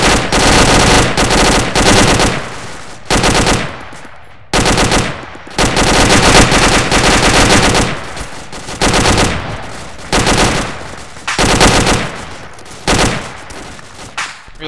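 Sustained machine gun fire in the Arma military game, long loud bursts of rapid automatic shots broken by short pauses, close and dominant with almost no talk.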